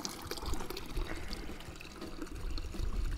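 Spring water flowing and splashing from a roadside spring on a hiking trail in Hungary's Rám Gorge, a continuous close gurgling pour with no talking.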